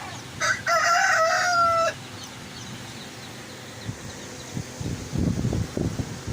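An Australorp breeder rooster lets out one loud, close crow near the start, followed by softer clucking and shuffling from the chickens around it.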